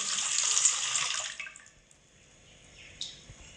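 Cooled boiled milk, about a quarter cup, pours into plum cake batter in a home kitchen, a close, steady liquid stream for about a second and a half that fades into quiet, with one small tap near the end.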